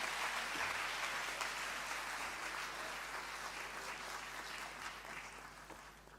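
A concert audience at a university cultural evening applauds a jazz ensemble, with dense, steady clapping that fades slightly toward the end and no voices over it.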